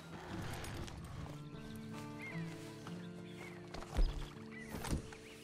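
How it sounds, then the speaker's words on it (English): Horse hooves walking in the Red Dead Online video game, a soft steady clip-clop at a slow pace over a low ambient music bed, with a couple of louder thuds near the end. "And you better get on this horse."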